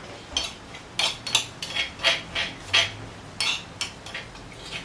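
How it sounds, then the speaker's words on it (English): Garlic and chili going into a frying pan for Thai pad kaprao, heard as a quick run of light metallic clinks and taps from a utensil against the pan, steady and fairly close, with no talk. "I'm going to put this garlic and chili in the pan."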